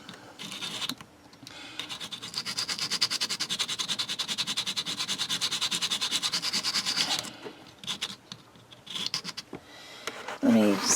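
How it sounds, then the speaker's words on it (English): Polymer clay cane edge rubbed flat on sandpaper, a close, rhythmic scratching with fast, steady back-and-forth strokes lasting several seconds, then stopping, followed by a few shorter scrapes and handling noises. "what you need to do is sand that flat so it'll fit up against the flat part of this"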